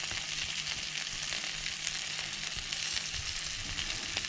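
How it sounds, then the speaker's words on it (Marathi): Fish pieces for a Goan butter fish curry fry in hot oil with a dense, continuous crackling sizzle, steady and close, with no voices. "सो आतां दुसरे सायडीनसून अशें घालून आमी फ्राय करून घेतली"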